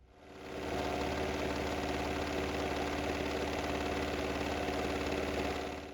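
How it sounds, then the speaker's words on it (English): A sewing machine runs without pause for about five seconds, stitching lines across tote bag handles. Its motor gives a steady, fairly quiet whirring hum that rises at the start and fades at the end. "Then I'm going to come back and put multiple lines of stitching across these handles."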